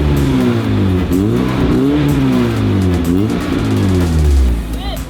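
A slammed car's engine runs after a year sitting, revving up and down repeatedly in loud, rising and falling sweeps, close by with a steady idle beneath.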